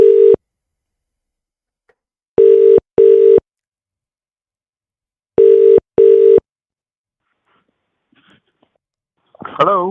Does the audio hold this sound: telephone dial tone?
yes